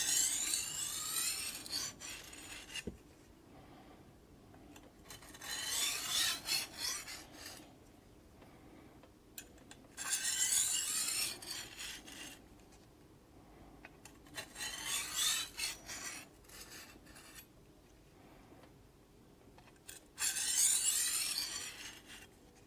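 A Chicago Cutlery knife is drawn backward across a diamond sharpening stone in five soft, gritty rasping strokes spaced a few seconds apart, faint and close, with near silence between passes.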